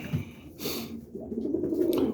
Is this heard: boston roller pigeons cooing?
yes